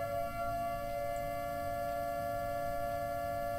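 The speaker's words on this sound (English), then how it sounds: "Oh, and yeah, siren." In a Russian horror video game, a siren wails with a steady sustained tone under a low rumbling backdrop, distant and faint, holding unchanged throughout.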